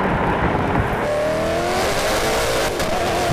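A Koenigsegg Agera RS and a Bugatti Chiron Super Sport accelerate hard from a rolling start in third gear at 50 mph, engines roaring loudly and steadily with a rising pitch, heard alone without talk.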